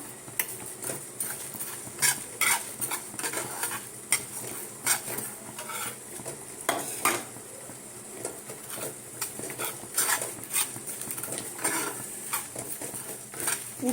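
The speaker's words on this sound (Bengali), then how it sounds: "যেমন করে ভাজা হয় ওইভাবে ভেজে নেবো" Spice mix frying in a hot pan for soybean potato chops, with a spatula stirring and scraping in frequent clicks and scuffs over a soft sizzle, close and fairly quiet.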